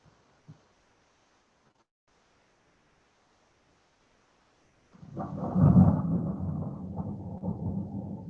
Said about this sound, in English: Sorry about the thunder in the background,